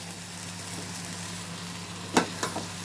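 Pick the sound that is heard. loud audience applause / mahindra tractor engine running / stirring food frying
stirring food frying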